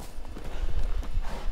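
Horse hooves clip-clop in The Witcher 3 video game, a quick run of soft, close hoof thuds in an uneven trotting rhythm.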